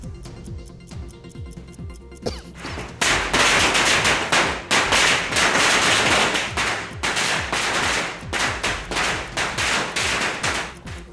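A long string of firecrackers bursts in rapid, crackling succession at a celebration, loud and dense, after a brief quieter lead-in with scattered pops.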